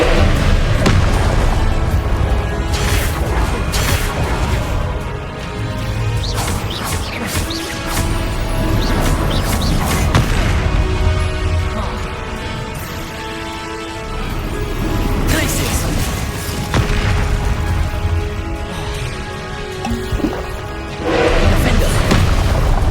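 Repeated loud blasts and crashing impacts from Confringo blasting spells in the video game Hogwarts Legacy, landing in uneven bursts amid dense combat noise and music, with voices calling out spells between the explosions.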